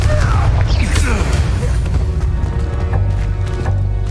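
A booming blast spell in Hogwarts Legacy, a heavy rumbling impact with crackling debris that rolls on loudly, mixed with other game sounds and a voice.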